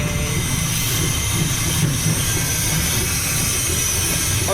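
Coal-fired steam train running with a steady, loud rumble of rolling wagons and a continuous hiss throughout, close and unbroken with no voices.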